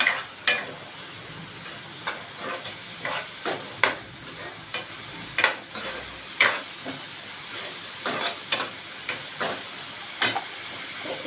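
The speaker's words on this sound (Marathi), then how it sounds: "आपल्याला कांदा टोमॅटो चांगला शिजवून घ्यायचा आहे 2 मिनिट." Onion and tomato cook in a hot pan with a steady low sizzle, while a spoon scrapes and stirs in regular taps and strokes, heard close up with no talking.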